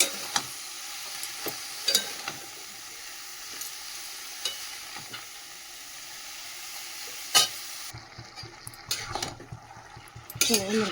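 Cabbage frying in a kadai and being stirred with a utensil. A soft steady sizzle runs under scattered scraping clinks against the pan, which grow busier and louder toward the end.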